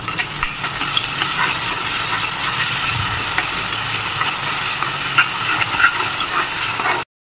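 Onion frying in hot oil with hing, black pepper, bay leaf and garam masala in a home kitchen, a steady loud sizzle running unbroken for several seconds with faint stirring scrapes, then cutting off abruptly.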